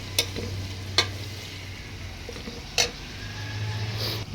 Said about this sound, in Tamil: வெங்காயத்தை நல்லா பொன்னிறமாக வதக்கணும்.